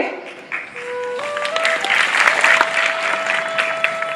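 Parents in a lecture hall at a parenting guidance meeting break into sustained applause, steady and fairly close, with a lingering electronic tone running beneath the clapping.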